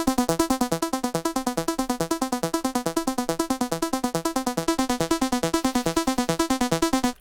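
A Reese bass synth in FL Studio, part of a big-room techno rave track, pulses in fast, evenly repeated notes, thick and loud throughout, with no talking.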